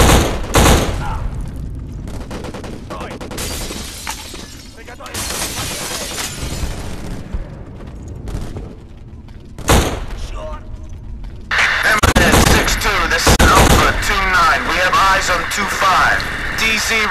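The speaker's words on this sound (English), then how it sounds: "CZ receiving heavy fire." Heavy gunfire in a city street battle in the video game BLACK: loud bursts of automatic fire and sharp shots, with debris shattering and booming impacts, interrupted by gaps and then growing denser toward the end.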